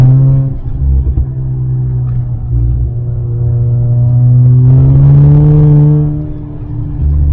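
A Mazda RX8 accelerates on a wet road, its engine loud and close, a deep steady drone that climbs in pitch partway through and then eases off.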